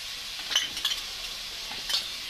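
Whisked sour yogurt goes into a pan for rohu fish curry, giving a soft, steady sizzle with a few light clinks of a spoon against the pan.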